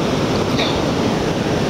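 Continuous surf at Sendai Newport beach, a loud, even wash of breaking waves heard up close with no pauses or voices.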